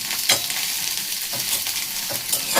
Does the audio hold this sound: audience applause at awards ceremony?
no